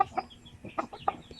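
A few soft clucks from a Basilan cockerel about four to five months old, close by and quiet, in short irregular bursts.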